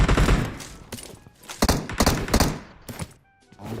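Bursts of video game gunfire during a shootout around walls and pillars, loud sharp volleys repeating in clusters with brief lulls between, no talk over them.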